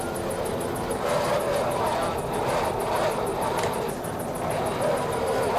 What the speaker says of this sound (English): 265 horsepower Mercury outboard motors